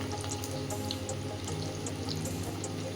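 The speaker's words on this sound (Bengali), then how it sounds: "একবার তুলে নিয়ে আবারও আমি তেলের মধ্যে দিয়ে দিলাম দিয়ে উল্টিয়ে পাল্টিয়ে আবারও এইভাবে ভেজে তুলে নেব" Pea snacks fry in a pan of hot oil, giving a steady, even hiss with scattered crackles, moderately faint and continuous with no talking.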